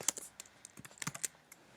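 Rapid, irregular clicks of typing on a computer keyboard, close and fairly quiet, with uneven bursts of keystrokes and no talking.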